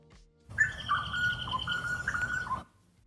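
Ambient bush sounds: one bird sings a short series of chirps and tweets for about two seconds over a soft background, with quiet before and after.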